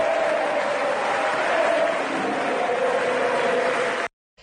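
A crowd gives sustained applause at Alberto Fernández's presidential inauguration speech, a dense, steady clapping that runs loudly for about four seconds before cutting off abruptly.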